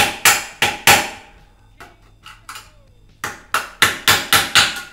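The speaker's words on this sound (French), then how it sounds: "j'aime bien toujours avec ces petites chevilles mettre un petit coup de marteau à la fin" Hammer taps on small plastic wall plugs while a ceiling light is mounted: a quick cluster of sharp, close knocks, a few softer taps, then another rapid run of firm strikes.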